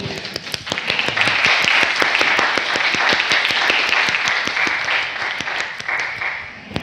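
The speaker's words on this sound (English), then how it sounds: "I'd like to applaud you." Loud, sustained audience applause at the close of a session on nonviolent communication, dense rapid clapping running several seconds before thinning out near the end.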